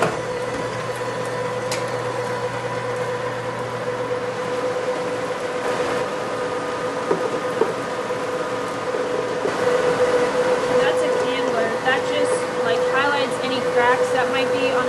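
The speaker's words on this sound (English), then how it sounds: "One by one they get put up here on the conveyor and they run through, and then there's a little fan that dries them off" Egg cleaning conveyor on a farm carrying eggs through to a small drying fan, giving a steady mechanical hum and whir with light rattling throughout, while a person talks over it.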